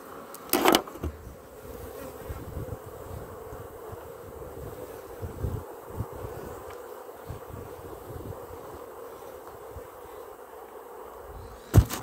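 Honeybees hum in a steady, dense drone over an opened hive during an inspection, close and continuous, with a few sharp knocks and handling noises near the start and end.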